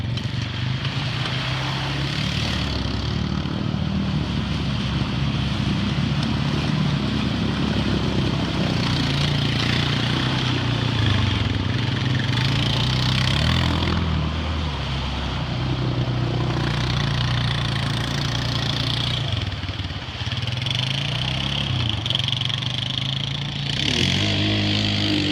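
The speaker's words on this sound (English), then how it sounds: "But now I'm on this cheaper four-wheeler just to have a good time and not really worry about it." A cheaper manual-shift four-wheeler ATV engine runs steadily and loudly throughout, with a constant low mechanical drone that holds near one pitch, as if idling or puttering along nearby, with no talk over it.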